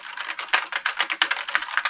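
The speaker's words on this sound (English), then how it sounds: "So nice, these keyboards." Rapid typing on an old IBM PS/2 keyboard, its clicky keys clattering in a steady, close, even rhythm with no one speaking.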